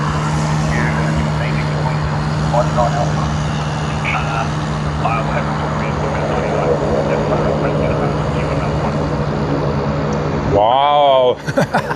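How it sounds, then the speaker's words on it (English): A C-17 military transport jet flying low at around 300 feet near Sydney Airport, giving a loud, steady engine roar that holds for most of the clip, with voices talking over it. "the C-17 flying at around 300 feet"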